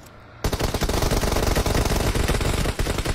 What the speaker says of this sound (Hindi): भाई भाई क्या गोलियां बज रही है यहाँ पर